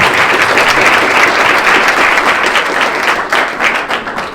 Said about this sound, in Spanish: Un fuerte aplauso pido